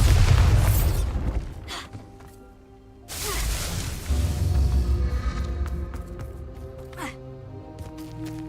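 Bombarda spell blasting in Hogwarts Legacy: a loud booming burst opens, then fades, and a second heavy explosion hits near the middle with rumbling debris and sharp cracks trailing after.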